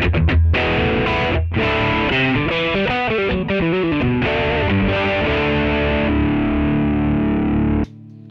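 Electric guitar played through the distortion channel of an RPM Pedals Last Lie 7-in-1 multi-effects strip with delay still on: loud, continuous saturated chords and riffs that ring out and end abruptly near the close.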